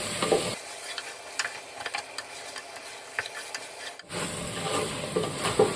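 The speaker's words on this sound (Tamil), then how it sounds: "சிக்கனை சேர்த்து மசாலா கூட நல்லா வதக்கிடுவோம்" Chicken and masala sautéing in a pan for chicken dum biryani, with a continuous close sizzle and repeated scraping, rubbing stirs of a spatula, fairly loud and alone.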